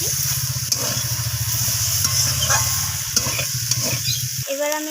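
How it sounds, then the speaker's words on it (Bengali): Poppy seed paste is stirred into bottle gourd greens frying in a pan, giving a close, loud sizzle with scraping strokes from the spoon and a rhythmic low rumble. The rumble cuts off near the end. "তো পোস্ত বাটাটা দিয়ে আমি আবারও নাড়াচাড়া করে এইভাবে মিশিয়ে নিচ্ছি।"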